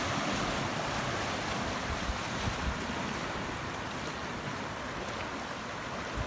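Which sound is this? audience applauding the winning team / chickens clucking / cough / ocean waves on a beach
ocean waves on a beach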